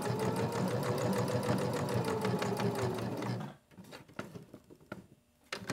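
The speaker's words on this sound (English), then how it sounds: "we're just going to come back and stitch over this beginning just a little bit, back stitch to secure it." Sewing machine running in a steady rapid stitch, then backstitching over the start of a seam on a fabric soap holder with elastic, followed by a few short separate bursts of stitching and pauses.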